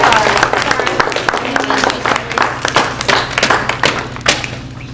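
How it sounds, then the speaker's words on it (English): A coffee house audience claps and cheers after a performance, close and loud, with irregular thuds and scattered individual claps, and voices talking underneath. "We'll give you one more round of applause."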